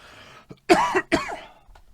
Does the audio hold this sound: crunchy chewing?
no